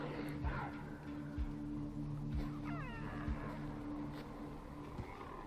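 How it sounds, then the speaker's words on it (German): A wild cat in the prehistoric video game Far Cry Primal lets out a few drawn-out meows and yowls over a steady low game ambience, with short thuds in between. "Eine Katze."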